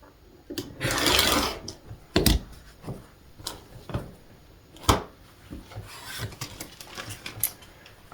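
Quilt background fabric strips being cut, with repeated scraping and rasping strokes, a longer rub, then several sharp clicks and bumps at an uneven pace, close by with no talking.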